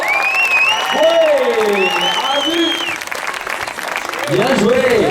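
Crowd applause at an IFSC European Youth Cup bouldering competition in L'Argentière, steady clapping and cheering under an announcer's continuous amplified voice.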